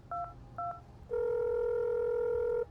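A telephone-box handset dials an ambulance in the video game Accident, with two short dialing tones followed by a long, steady tone, clear and close with no talking.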